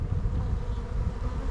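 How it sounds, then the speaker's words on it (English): Honey bees hum in a dense, steady drone at a newly set-up beehive, a continuous close swarm buzz with no pauses for its short length. "These bees are working"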